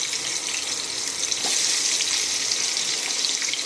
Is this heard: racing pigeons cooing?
no